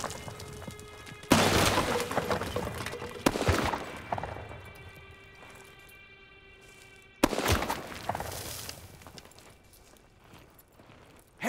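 Gunfire in Call of Duty: WW II during a 1944 battle in Germany's Hürtgen Forest: sharp, loud shots and crashing impacts in a few separate bursts, with quieter rumbling and clatter in between.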